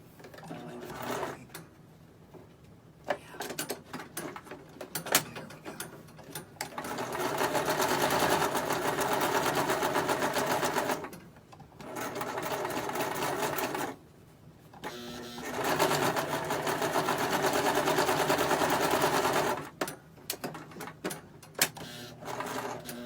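A home sewing machine stitches a fabric bowl cozy, its close, steady motor hum running in long bursts of several seconds with short pauses between them for turning the piece at the needle.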